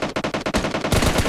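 Rapid automatic gunfire in PUBG Lite as a bot is shot, a dense, loud burst of closely spaced shots that grows heavier toward the end.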